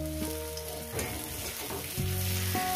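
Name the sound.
small fish frying and being stirred in a pan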